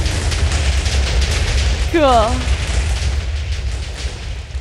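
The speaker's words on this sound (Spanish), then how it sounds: "¡Explosiones!" Explosions in the Minecraft video game rumble continuously, deep and close, while a voice briefly speaks over them partway through.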